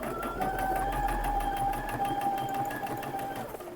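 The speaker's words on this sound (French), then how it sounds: "Et on coud à 5 mm." A domestic sewing machine stitches a seam 5 mm from the fabric edge, running steadily at an even pace for nearly four seconds with no talk over it.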